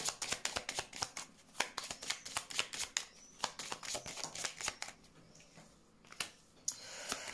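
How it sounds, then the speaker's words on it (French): Tarot cards are shuffled and laid out on a table: quick crisp riffles and flicks in irregular bursts, close and fairly quiet, with soft slaps as cards land and no talking. "Je vais continuer avec des cartes parce que là, j'ai pas assez d'informations. Mettre des cartes sur ce blocage."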